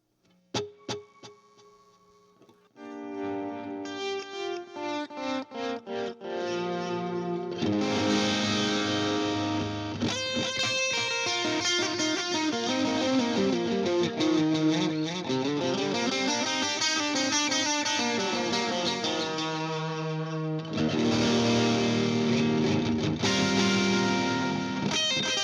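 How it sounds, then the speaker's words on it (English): Electric guitar played through a Canyon delay pedal set to its digital delay mode, picked notes building into dense, ringing layered repeats that trail clean and pristine throughout, with no talking. "turn on a little delay"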